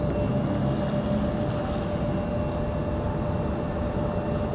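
A United Airbus A321neo airliner moves at Raleigh-Durham International Airport, heard as a steady, loud, low engine rumble and broadband roar that holds constant throughout, with a faint whining tone above it.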